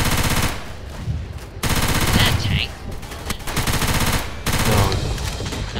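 Gunfire in Left 4 Dead 2, dense rapid automatic bursts in several long strings separated by brief pauses, loud and close, continuous through the stretch.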